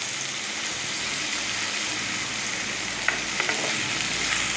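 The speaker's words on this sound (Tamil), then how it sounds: "தக்காளியை நல்லா வந்து எண்ணெயிலே வதக்கிக்கோங்க." Tomatoes sauté in oil for a fish curry, giving a loud, continuous crackling sizzle close up, with a few light scraping clicks near the end and no speech.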